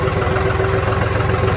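John Deere 5103 tractor engine idling on a farm: a steady, loud, even diesel drone with a constant hum and no change in pitch, alone without talk.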